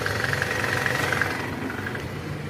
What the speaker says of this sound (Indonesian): ini indikasinya dari balancer shaft guys, karena sumber bunyinya itu dari panci oli mesin